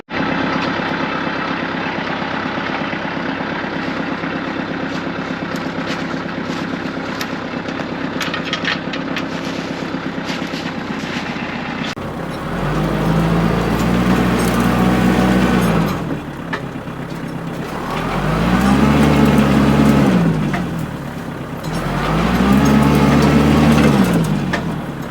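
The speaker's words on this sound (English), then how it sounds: "Well, that took all 42 horsepower that this little Kubota has to get that down." A small 42-horsepower Kubota tractor pulls a tree down with a chain. The engine labours close by, idling at first and then swelling in three long strained surges.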